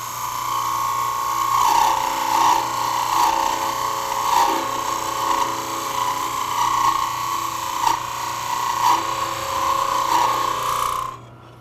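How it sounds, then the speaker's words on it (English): A wood lathe spins a Christmas ornament blank while a parting tool cuts it, giving a steady close scraping whine with rhythmic pulses that stops abruptly at the end. "I can use it in conjunction with the parting tool to establish the correct diameter"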